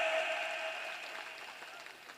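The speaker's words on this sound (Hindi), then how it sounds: "तालियां बजाओ जोरदार" Faint applause from an audience at a Rajasthani comedy show, soft clapping that gradually fades over a couple of seconds.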